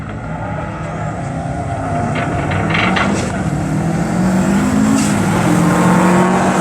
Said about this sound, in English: Greg Butler with the Scooby RA in the right-hand lane